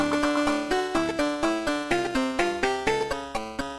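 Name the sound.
Taiko rhythm game drum notes with drum roll, chart playback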